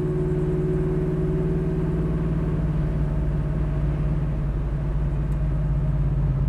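The engine of a 1968 Chevrolet Chevy II Nova runs steadily while the car waits at a red light, a loud, close low rumble with a smooth, even hum and a slight pitch shift partway through.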